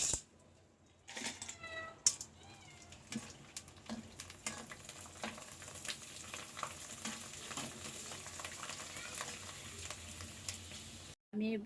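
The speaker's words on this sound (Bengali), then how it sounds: "প্রথমে আমি চিপসগুলা ভেজে নিব।" Sun-dried rice chips, tinted with several food colors, crackle and bubble in hot oil, a soft continuous sizzle with scattered pops and stirring clinks, briefly interrupted by a silent gap.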